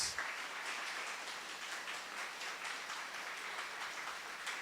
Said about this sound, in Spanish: Démosle un aplauso al Espíritu Santo de Dios.